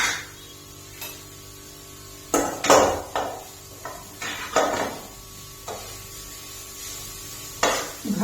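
Chopped carrots frying in ghee in a pan for carrot halwa, stirred with a spoon that scrapes and knocks against the metal in scattered bursts over a faint steady sizzle, close by with no talking.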